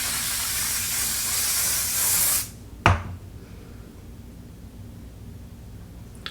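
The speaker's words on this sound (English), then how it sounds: "I will spray my hair 2 or 3 times before I'm done." Hairspray hisses steadily from an aerosol can for about two and a half seconds, ending in a sharp click and a brief burst, followed by quiet room tone with no talk.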